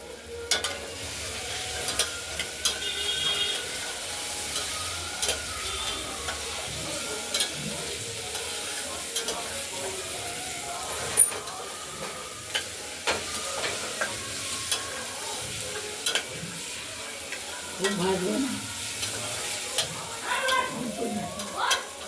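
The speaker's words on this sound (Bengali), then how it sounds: "এবার নাড়াচাড়া দিয়ে একটু ভাজা ভাজা করে নেব" Moong dal fried in a little oil inside a pressure cooker gives a low, quiet sizzle under repeated scraping and knocking strokes of a spoon stirring against the metal.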